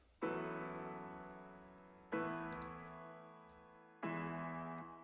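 Piano chords from the Nexus plugin in FL Studio play three times, each one struck and left to ring down, evenly spaced about two seconds apart, soft and alone.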